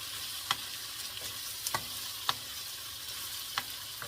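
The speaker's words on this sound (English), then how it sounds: "At this point, I'm going to add the cooked prawns" Cooked prawns with garlic being tossed in a hot pan, a soft, low sizzle under a handful of light clicks and taps from the utensil at irregular intervals.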